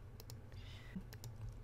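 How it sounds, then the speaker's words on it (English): Keys tapped on a computer keyboard, with a few sharp, quiet clicks spaced across a brief stretch, close and faint over low room hum. "So I'm going to press space on the keyboard,"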